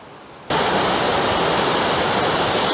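A mountain waterfall near Sixt in the Haut-Giffre valley of the French Alps suddenly fills the scene with a loud, dense, unbroken rushing roar after a brief quiet moment.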